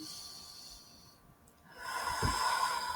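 One deep breath drawn in through the nose during a calming breathing exercise, a close, soft airy rush that rises after a quiet pause, alone with no talking.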